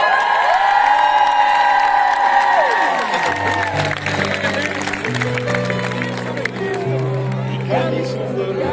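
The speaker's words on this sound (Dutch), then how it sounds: "We beginnen met een groot applaus." Concert crowd at a show applauding and cheering, a dense roar of clapping and voices that carries on while the band's music rises underneath.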